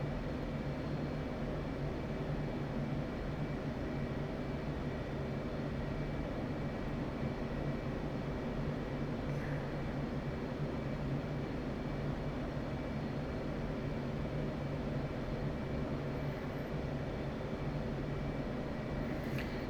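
An F/A-18 Hornet jet in a flight simulator video game drones with a steady, unchanging engine roar, a broad, even rumble held at constant loudness throughout with no voices.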